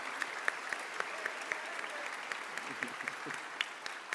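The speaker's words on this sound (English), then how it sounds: "So, big round of applause to our crew, because they're awesome." Convention audience in a ballroom at RTX 2017 applauding the show's crew, with sustained clapping and scattered sharp claps throughout.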